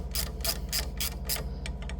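A socket wrench ratcheting on a small screw at an air conditioner connection, with about eight close, crisp clicks in a fairly steady rhythm.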